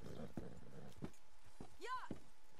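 A horse is tied up in Red Dead Redemption 2 with a few scattered hoof clops and shuffles, a short whinny-like call near the end, and someone talking quietly over it.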